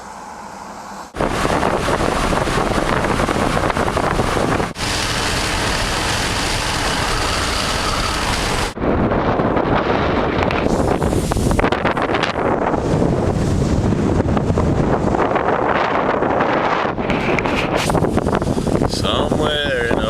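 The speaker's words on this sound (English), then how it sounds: "Somewhere in Oklahoma, the wind is blowing hard." Strong wind buffets a roadside camp in Oklahoma, a loud, steady roar of gusts battering the microphone that rises and falls across the whole stretch.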